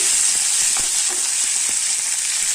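Tomato, tamarind and curry leaves sauté in a hot pan for a coriander chutney, giving a steady loud sizzle with a few soft stirring scrapes and no voices.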